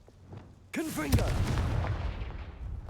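An explosive spell in Hogwarts Legacy: a whooshing, warbling magical charge-up that gives way to a deep boom and a long rumbling tail, loud and close.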